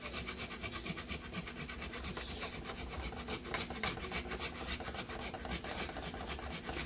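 Fresh ginger is rubbed back and forth across a grater in quick, steady rasping strokes, close and fairly soft, continuing without pause.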